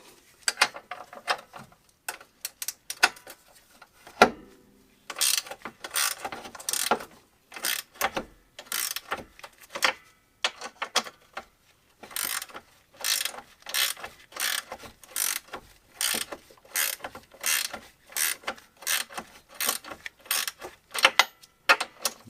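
A hand ratchet tightens an A-arm bolt on a Polaris Sportsman ATV during front bushing replacement, giving close, crisp clicking bursts in quick repeated strokes with short pauses between them.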